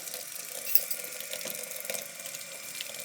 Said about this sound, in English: Now we're just going to go ahead and add water into that.